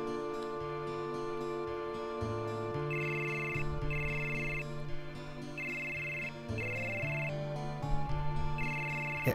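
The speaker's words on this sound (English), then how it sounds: "It's a phone." A telephone rings in the game Final Fantasy 7, a repeating electronic trill in regular bursts over sustained synth music, bright and fairly loud for several seconds.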